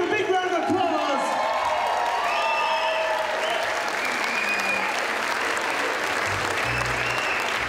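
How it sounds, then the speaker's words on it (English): An audience in Ormond Hall gives student performers at La Fiesta sustained, dense applause with scattered cheers and whoops. The applause is loud and continuous throughout. "Give them a big round of applause."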